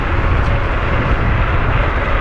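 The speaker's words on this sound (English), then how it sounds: "just hit the throttle, and we just take off" A YUME Hawk vehicle accelerates from about 30 miles per hour after the throttle is pressed, producing a loud, steady roar of motor, road and wind noise with no speech.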